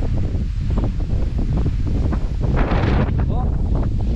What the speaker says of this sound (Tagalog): Ang lakas ng hangin, nakakatakot mag drone.